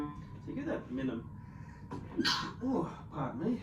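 A single sharp sneeze bursts out indoors between quiet speech during a piano lesson, close and brief.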